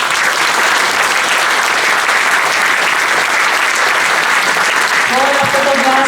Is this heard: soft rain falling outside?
no